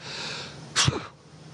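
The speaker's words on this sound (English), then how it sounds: "I'm going to sneeze" A single sharp sneeze aboard the International Space Station, a short explosive burst that rises clearly above the steady hum of the cabin.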